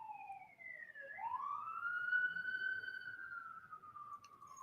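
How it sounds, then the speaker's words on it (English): An emergency siren wails in the distance, a single long tone sweeping down then rising and holding steady, faint and alone over a low background hum. "There's sirens in the background here."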